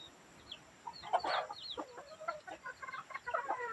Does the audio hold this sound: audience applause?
no